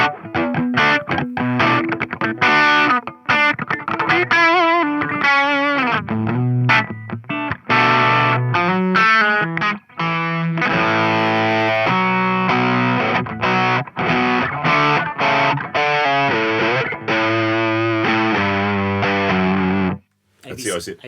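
A Mozztronics GD-1 Bone Breaker "Green Drive" guitar overdrive pedal in GuvNor style, loud and gritty. The guitar plays a busy riff of chords and single notes in a steady rhythm for about twenty seconds, then stops abruptly.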